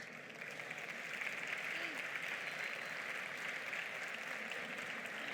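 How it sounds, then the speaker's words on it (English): Steady applause from a conference audience after a talk on Java application memory use, an even wash of clapping that holds at a constant level throughout, fairly soft and unbroken, with no voice over it. "I expect some applause here."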